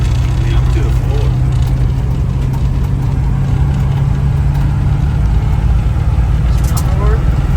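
A 1979 Dodge Ramcharger engine, long unused and needing carburetor work, runs loud and steady with a deep, continuous low rumble throughout, with no clear separate revs.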